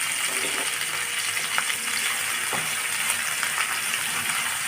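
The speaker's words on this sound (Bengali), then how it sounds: "মশলাটা ভালোভাবে একটু কষিয়ে নেব" Spice paste with garlic and ginger paste sautés in a pan, a steady dense sizzle and hiss running throughout with a few faint clinks of a stirring utensil, close and continuous.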